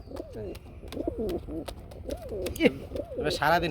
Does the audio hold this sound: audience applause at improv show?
no